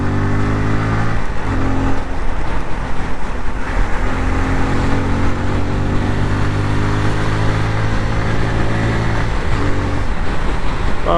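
Bajaj Pulsar N250 motorcycle accelerating, a loud, steady engine note with rising and shifting tones throughout, recorded close on the move with no talking.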